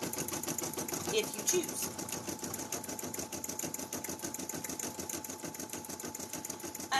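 An embroidery machine stitches felt patches with a fast, steady mechanical chatter that runs throughout, while a person talks over it.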